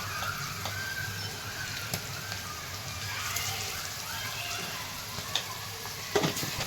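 Turmeric, chutney spice and salt sauté in a pan for stale bhakri pieces, giving a soft, close sizzle with light stirring scrapes and a few sharper clatters near the end.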